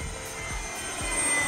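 Electric motors of an X-fly Twin Otter 1800mm RC plane hold a steady hum at half throttle, a constant drone with a slight rise toward the end, with a faint, soft thump now and then.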